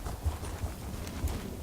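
Horse hooves clip-clop at a steady walking pace in a video game, a few distinct thudding steps over a dull background rumble, fairly close and moderately loud with no talk.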